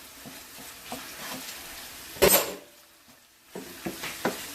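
Tomato paste cooks in a pot with a soft sizzle and intermittent stirring, spoon scraping against the metal, plus a brief louder clatter midway.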